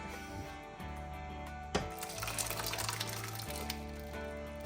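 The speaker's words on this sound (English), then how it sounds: "I'm gonna pour the rest in." Liquid for black-eyed peas being poured into a cooking pot, a quiet steady pouring and splashing that starts with a sharp knock and continues evenly for several seconds.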